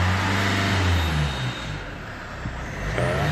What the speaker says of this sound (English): And give her a rev.